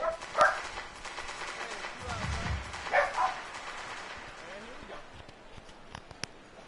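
Dogs bark in a few short bursts, a pair of yips near the start and again around the middle, over steady background noise with people talking throughout.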